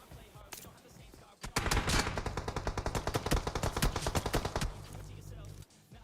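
Rapid bursts of automatic gunfire ring out in a PUBG battle, dense shots crackling for about three seconds before stopping, with an enemy team firing toward a smoke screen.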